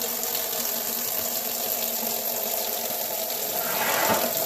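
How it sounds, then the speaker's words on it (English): Steady running cold tap water splashes continuously, rising into a louder, fuller gush near the end as dyed devore silk scarves are held under the stream. "I'm going to rinse them in cold water first."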